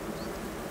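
Bees buzz around beehives, a soft continuous drone heard at a distance, low and steady with no talking.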